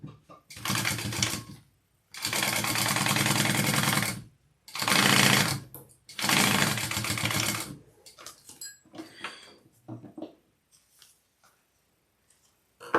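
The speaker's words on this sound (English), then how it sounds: "So I'm going to go ahead and baste the top closed here." Sewing machine basting the top of a shoulder bag closed, running in four steady stitching bursts separated by short stops, then light handling clicks and rustles as the fabric is adjusted.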